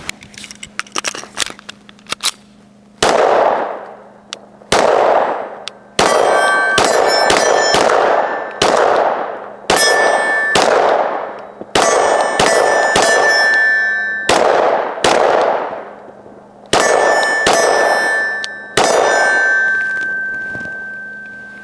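A Glock pistol fired with a factory magazine, loud sharp gunshots ringing out one at a time at irregular intervals, each with a short echoing decay, close to the microphone with no talking.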